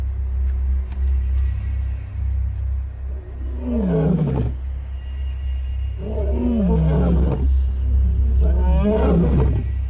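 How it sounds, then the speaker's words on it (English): A male lion roars in three deep, grunting bouts, close and loud, over a constant low engine rumble. "The roar echoing along the river means that big male lions are on the prowl."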